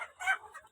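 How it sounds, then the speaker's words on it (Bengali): Desi chickens on a poultry farm holding about 3000 birds give a brief, moderately close burst of clucking, with no talk over it. "এটা দেশি মুরগির ফার্মে এলাম আমরা"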